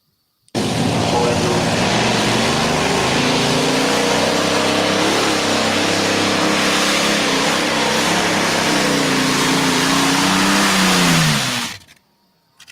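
A pulling truck engine fitted with a prototype supercharger roars at sustained high load for about eleven seconds, a steady loud drone with a rising whine, then cuts off abruptly.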